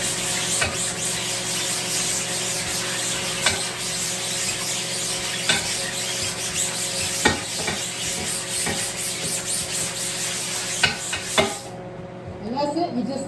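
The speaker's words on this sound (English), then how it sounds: "Make sure you scrub it in real good because this is what's going to help your emulsion stick when you coat it." Screen-printing screen being scrubbed hard on both sides during reclaiming: continuous close scratchy scrubbing with occasional sharp knocks, then a brief quieter stretch at the end.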